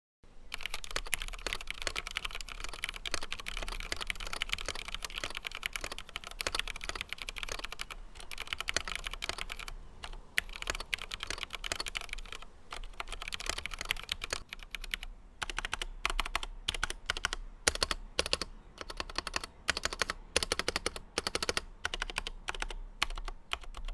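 A keyboard fitted with heavy 60g linear switches is typed on steadily, giving a dense run of close, crisp key clacks as each key bottoms out and springs back, with no talking.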